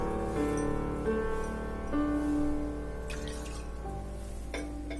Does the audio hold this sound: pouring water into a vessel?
yes